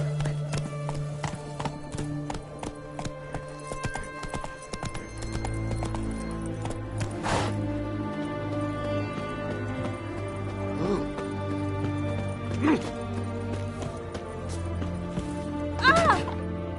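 Hooves of the horse Roach galloping in The Witcher 3: Wild Hunt on PS5 beat out a steady, rapid clip-clop rhythm through the whole stretch, with game music and ambience underneath.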